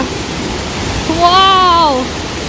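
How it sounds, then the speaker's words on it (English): Margaret Falls thunders in a loud, steady broadband roar close by, and a single voice rises over it partway through. "It's an angry waterfall."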